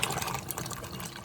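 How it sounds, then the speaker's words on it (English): Water pours steadily into a pot of beans, a continuous close splashing gush. "I'm going to go ahead and pour the water"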